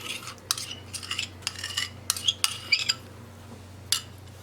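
Spoon scraping and clinking against a bowl and an airtight box as coloured homemade rainbow ice cream mixture is ladled in, a series of light, scattered taps and scrapes, close and fairly quiet over a low steady hum.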